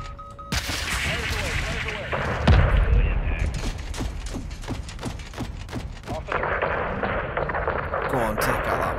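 Missile impact explosion in Call of Duty Modern Warfare 2: a heavy, booming blast with a low rumble, followed by a run of sharp gunfire-like cracks and battle noise, loud and continuous, with game voices talking over it.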